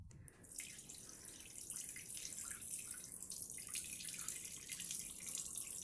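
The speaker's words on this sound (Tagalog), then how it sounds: "Hugasan ng hugasan ang bigas." Tap water running steadily into a pot of rice being rinsed for cooking, a close continuous splashing wash with no talk.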